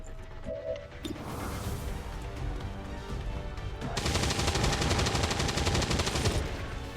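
Rapid automatic gunfire from a Gatling gun in the video game XCOM 2: War of the Chosen, a dense, loud burst that swells from about the four-second mark over an ongoing layer of game combat noise.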